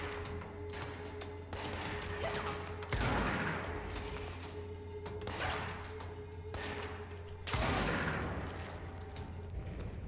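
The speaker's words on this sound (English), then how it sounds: "I have to shoot people. I'm shooting you." Gunfire in the video game Control, with several sharp blasts roughly every couple of seconds above a dense rumbling background of continuous weapon noise.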